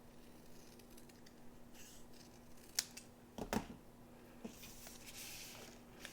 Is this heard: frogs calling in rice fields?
no